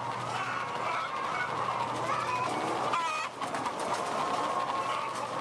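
Many caged hens in a battery farm cluck and squawk together in a dense, continuous din, the sound of a crowded flock close by with a low mechanical hum underneath.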